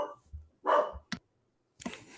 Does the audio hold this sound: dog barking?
yes